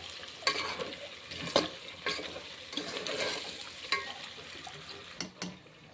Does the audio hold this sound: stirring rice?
yes